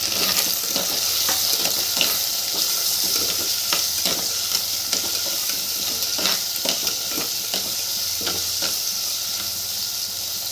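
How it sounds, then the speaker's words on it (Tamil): Food sautés in a clay pot before the tomato goes in, giving a steady loud sizzle with scraping stirs throughout, close up, and no voices. "சும்மா ஒரு 2 செகண்ட் வதக்கிட்டு தக்காளியை ஆட் பண்ணிக்கலாம்."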